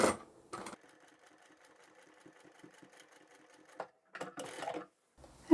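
A sewing machine runs a steady, rapid stitch along a marked line on a fabric wash bag, the whirring needle patter lasting about three seconds between louder handling bumps and rustles.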